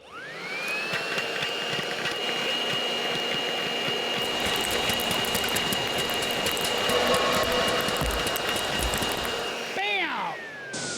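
A homemade air-blower launcher firing ping pong balls through tubes gives a steady, loud whooshing roar with a whining motor tone. It runs unbroken for about ten seconds, then winds down with falling pitch near the end.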